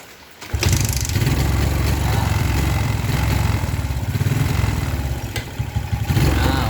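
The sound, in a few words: Suzuki Smash motorcycle engine running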